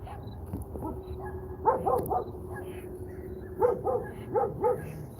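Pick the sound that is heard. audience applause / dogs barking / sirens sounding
dogs barking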